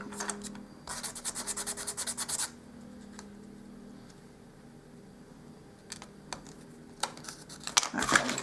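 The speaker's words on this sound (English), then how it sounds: "I've got my sandpaper here. And I'm going to work with it until I get it exactly where I want it." Sandpaper rubbing a small wooden dollhouse porch sign, close and clear, with a fast burst of rhythmic back-and-forth strokes, a pause, then scattered short scrapes and a last louder flurry of sanding.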